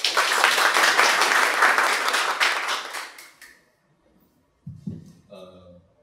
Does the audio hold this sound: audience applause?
yes